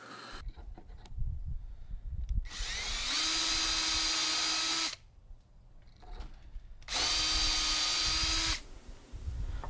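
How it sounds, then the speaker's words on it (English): A power drill whines in two long bursts, spinning up and cutting steadily through a jig into wood, separated by a short pause of quieter handling noise. "We clamp it into place and just simply drill right through the jig"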